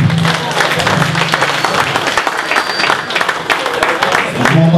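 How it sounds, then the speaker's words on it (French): A crowd claps and cheers steadily, a dense burst of applause at close range, with a voice speaking through it at the start and end. "Une bonne main d'applaudissements s'il vous plaît."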